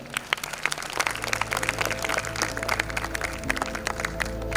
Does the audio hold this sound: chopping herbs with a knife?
no